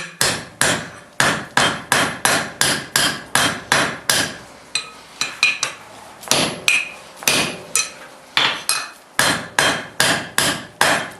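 A hammer strikes hot steel on an anvil while forging bolt jaw tongs, loud ringing blows in quick, steady runs of strikes broken by short pauses and a few lighter taps.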